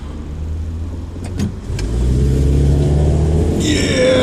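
A Mitsubishi Colt car accelerating on urban roads, its engine rumble rising loud and close after a brief lull, with a couple of clicks early on.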